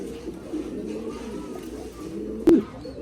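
Breeder pigeons in a double-cage loft tower cooing softly and continuously nearby, low throaty murmurs with a sharp click or knock near the end.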